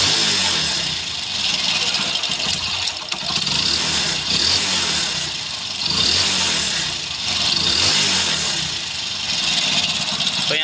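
A Hero Splendor Plus motorcycle, just kick-started after a starting problem was fixed, idles with a steady mid-pitched putter and rises and falls through several throttle blips, close up and fairly loud, with no talking.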